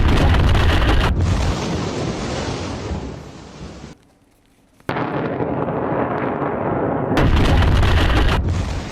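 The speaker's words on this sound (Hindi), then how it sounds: "कैसे मिसाइल से हमला हुआ।" Missile strikes in the Iran-Israel war seen in news footage: loud, roaring blasts and rumbling booms fill the scene, broken by a brief near-silent gap before the heavy explosions resume.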